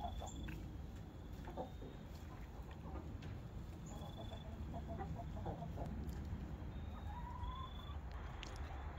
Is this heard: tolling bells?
no